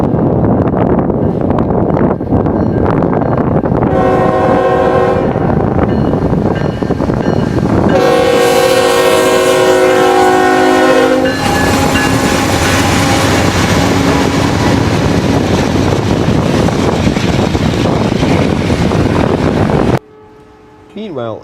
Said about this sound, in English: BNSF 3820 East rolls under a CN manifest entering Kirk Yard